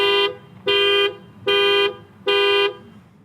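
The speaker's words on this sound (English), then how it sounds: "Let's go ahead and push this panic button and see what happens." The panic alarm on a 2019 Toyota Avalon XSE sounds its horn in four loud, evenly spaced honks, each held about half a second with short gaps between, close by and alone.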